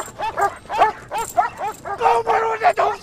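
Close dog giving a quick run of yelping barks followed by higher whimpers and whines, loud and agitated over about three seconds, with a human voice mixed in.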